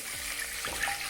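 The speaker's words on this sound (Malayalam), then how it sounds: "ഇതിലേക്ക് വെള്ളം ഒഴിച്ചു കൊടുക്കാം." Water is poured into a cooking pot of onions for a Kannur-style prawn dum biryani, a short, quiet gurgling splash with no talk.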